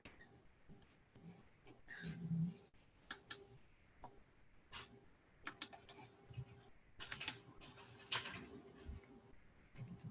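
A computer mouse clicks softly, giving a scattering of light, faint taps at an irregular pace against a quiet room background. No one speaks.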